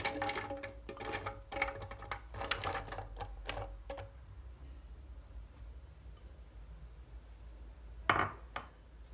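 Seeded, chopped cucumber pieces drop into a blender jug as a quick run of close knocks and clinks, then quiet, with one more sharp clatter near the end.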